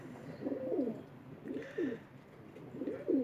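A pigeon coos in three separate bursts of soft, throaty warbling, close by and alone against a quiet background.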